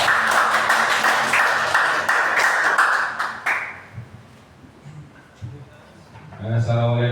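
Applause and clapping from an audience at a school event on positive culture, loud and dense for about three and a half seconds before fading, followed by softer noises and a burst of talk at the end.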